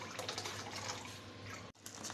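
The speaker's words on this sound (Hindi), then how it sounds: "ये इसमें बॉयल आने तक हमें इसको अच्छे से फेंटना है, फेंटते रहना है इसको।" Green tea leaves are whisked with water in a pot for Kashmiri pink chai, giving a faint, steady sloshing and liquid swishing with a brief break near the end.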